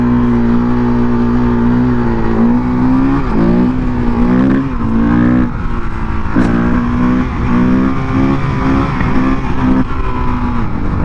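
Husqvarna 510 SMR supermoto motorcycle engine riding and revving loudly and close, with repeated throttle blips and shifting pitch throughout, no speech.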